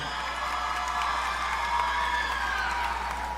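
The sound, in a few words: audience applause and cheering for Signal Hill Secondary School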